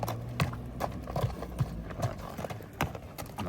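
A horse being shown for sale in Batken region, Kyrgyzstan, its hooves clip-clopping in a steady, fairly close rhythm of regular thuds with faint outdoor background and a brief whinny-like sound.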